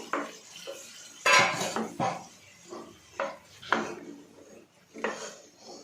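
Boiled chickpeas tipped into a cooking pot for chole chaat, heard as a series of close clanks and scrapes of a metal spoon against the pot, coming in uneven bursts with brief pauses between.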